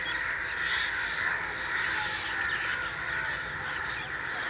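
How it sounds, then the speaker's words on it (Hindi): A large flock of crows flies overhead, cawing constantly in a dense, overlapping chorus that holds steady throughout, with no voices. "आज बहुत ज़्यादा कौवे उड़ रहे हैं"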